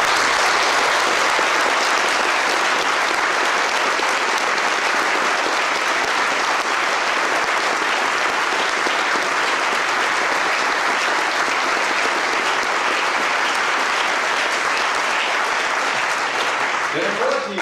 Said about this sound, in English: hopefully you will give them a really great applause